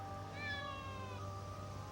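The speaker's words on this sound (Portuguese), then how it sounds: "a única coisa que sai daquela chamada são alguns grunhidos de gato" Cat growls come through a ringing telephone line, a strained, wavering cry with rising harmonics over a low steady hum, heard alone and moderately faint.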